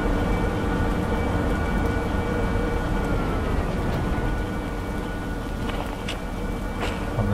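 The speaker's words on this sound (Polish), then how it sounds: "Lokomotywa można już zgasić." Train locomotive in the Derail Valley railway simulator hauling heavy freight, a steady loud rumble and hum of running machinery that continues unbroken throughout, with faint brief clicks near the end.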